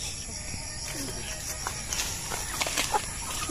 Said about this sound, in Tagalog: Bakit itong mga manok?